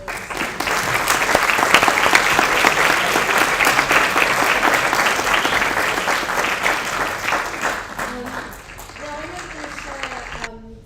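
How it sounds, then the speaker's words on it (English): Sustained applause from a workshop audience thanking the facilitators, dense clapping that swells then thins out near the end, with a voice starting to speak as it fades. "if we could take a moment just for a round of applause, please"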